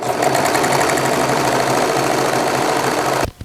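A serger runs a rolled hem along fabric, a loud, steady, rapid mechanical chatter that holds evenly before stopping abruptly near the end.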